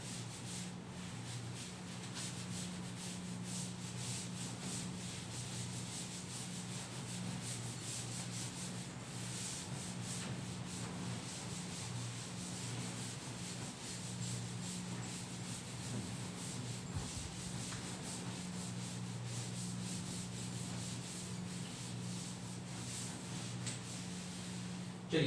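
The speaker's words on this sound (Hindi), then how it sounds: "चलिए इसको अब मैं रब करता हूं।" A duster steadily rubs writing off a board during a maths class, a continuous soft scrubbing and rustling that runs unbroken for about 25 seconds at low level, with a faint hum underneath and no talk.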